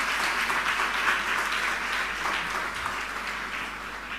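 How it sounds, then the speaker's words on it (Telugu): A church congregation claps in praise during a sermon, producing dense, sustained applause that holds steady at a fairly close, even level before easing slightly toward the end, with no one speaking. "నమ్మితే మీరు చప్పట్లు కొట్టి దేవుని స్తుతించు."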